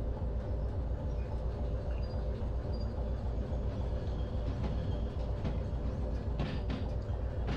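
A locomotive shunting in the video game Derail Valley: a steady low rumble with rhythmic clickety-clack of the wheels on the rails, constant and fairly close.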